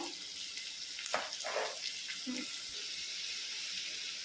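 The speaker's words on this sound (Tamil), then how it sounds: "இப்போது நான் வெட்டி வச்ச ரெண்டு வெங்காயம் ஆட் பண்ணுறேன்" Two finely chopped onions go into hot oil in a pan for Chennai vada curry, making a steady close sizzle with a few brief splattering pops near the start.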